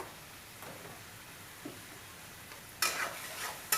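Potato, carrot and pea sabzi stirred and roasted in a pan, a faint scraping hush that breaks into a louder burst of stirring and sizzle near the end, with no voices.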